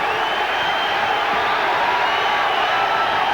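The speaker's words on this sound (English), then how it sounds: "The crowd responding to the hometown favorite, Jesse James Leija" A boxing crowd cheers for hometown favorite Jesse James Leija during a fight, a dense, loud, steady roar of many voices filling the whole moment.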